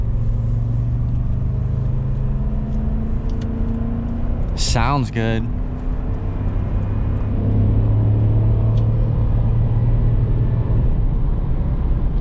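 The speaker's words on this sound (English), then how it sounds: "really get to hear that V8" A 2008 Lexus LX 570's V8 engine drones steadily as it accelerates on a highway, with a low rumble and road noise heard from inside the cabin and a brief spoken remark partway through.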